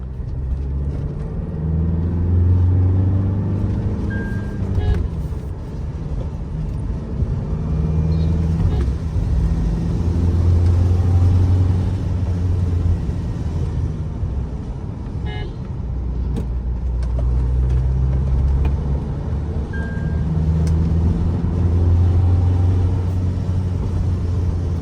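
A car engine in third gear rumbles low and steady, swelling in a few long pushes of revving throughout, heard from inside the vehicle with someone talking over it at times.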